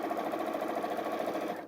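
A sewing machine runs steadily, stitching a fabric bag, with a continuous close mechanical whir and rapid needle chatter that ends right at the finish.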